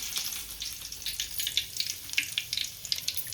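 Curry leaves drop into hot oil and crackle, giving quick irregular pops and spatters over a soft sizzle, close by and with no one talking.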